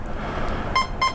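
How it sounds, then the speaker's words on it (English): A Harbor Freight Cobra wireless security camera system sounds its alert, a couple of short electronic beeps near the end after a quiet stretch. "You get used to this beeping sound."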